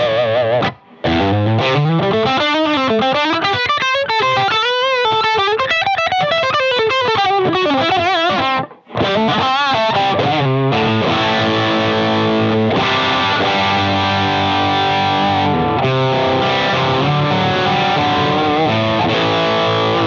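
Electric guitar run through a Strymon Riverside overdrive pedal at moderate gain into a Hughes & Kettner Nano amp, playing sustained, gritty melodic lines and chords, loud and continuous with two brief pauses.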